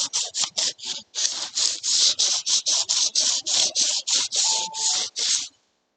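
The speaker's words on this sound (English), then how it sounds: "we're gonna just do a light sanding" Light hand sanding on samurai armour in a workshop, about twenty quick rhythmic rasping strokes in steady back-and-forth bursts, close and clear, then stopping abruptly.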